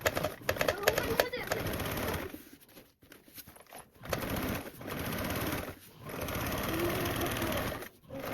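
Sewing machine top stitching along divider pockets of a tote bag at a 1/8 seam allowance: a loud, steady whirring run broken by brief pauses, close up, with some faint background voice.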